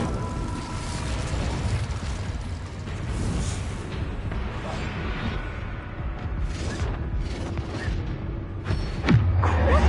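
Fiery spell blasts and booms in a Hogwarts Legacy battle, a dense ongoing rumble of magical combat with a sharper burst near the end, loud and close.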